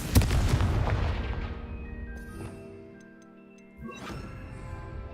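Confringo fire-blast spell cast in the Hogwarts Legacy video game: a sharp explosive burst that rings and decays over a couple of seconds, followed by a second, softer blast near the end, with no talking.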